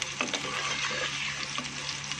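Soft, steady sizzle of sliced onion frying lightly in a pan, faint and close with a few small crackles and stirring scrapes.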